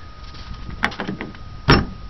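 The door of a 1985 Chevy is worked, giving a couple of creaks and a thud, then a louder latch clunk near the end, close by over a low background rumble with no talk.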